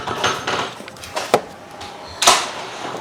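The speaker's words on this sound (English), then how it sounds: "Now we can bring our pan here" A metal baking pan shifted on a kitchen surface, giving a few short scrapes and knocks and one sharper clank near the end, with no talk.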